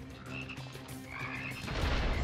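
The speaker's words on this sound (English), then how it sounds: "Oh, we're exploding frogs." Exploding frogs in the video game Immortal Redneck croak in a steady run of low, close croaks, loud and without talk, swelling into a noisy rumbling burst near the end.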